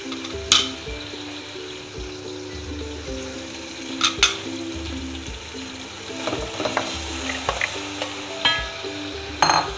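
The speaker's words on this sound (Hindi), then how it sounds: "फुल आंच रखेंगे चूल्हे की। और अच्छी तरह से इसे भून लेंगे गोश्त को।" Beef sizzling and frying in a hot pan over full heat for nihari, with intermittent scraping and clattering of a spoon stirring, close and steady throughout.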